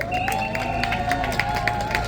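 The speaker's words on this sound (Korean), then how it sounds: "박수 한번 보내주세요" Applause and cheering fill the hall as a political rally audience claps for an arriving lawmaker, a dense continuous wash of hands and voices with no speech over it.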